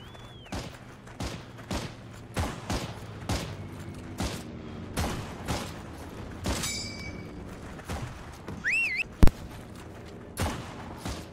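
Single sniper rifle shots from the WWII shooter Heroes & Generals crack out at steady intervals, about a dozen sharp reports over eleven seconds, with one louder shot near the end; no talk over them.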